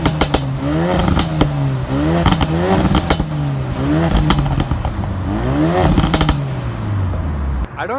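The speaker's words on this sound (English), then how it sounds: "It has a exhaust system from factory that allows it to pop, like the valves are open." Close, loud revs from a Ford Focus RS with its factory exhaust: repeated rising and falling engine sweeps punctuated by sharp crackling pops and bangs, then a sudden cutoff near the end.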